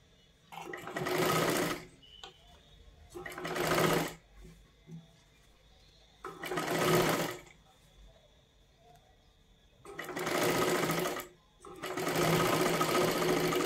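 A sewing machine stitches a blouse sleeve in five loud bursts of rapid running, each lasting one to two seconds, separated by short quiet pauses.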